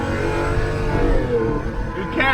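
Lamborghini Aventador Roadster pulling hard under acceleration, a loud, dense engine roar that stays strong throughout with a brief rise in pitch near the end, heard from inside the car.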